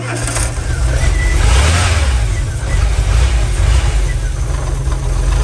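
Engine of an abandoned VW camper van, freshly fitted with a new airflow meter and ECU, running steadily and close by with a low rumble and slight rises in revs, and people talking over it.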